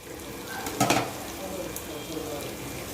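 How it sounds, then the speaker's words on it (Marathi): Dal masala fries in a pan with a steady close sizzle, broken once by a brief clatter of a utensil. "तोपर्यंत मसाला इकडं दाळीचा छान असा फ्राय होतोय"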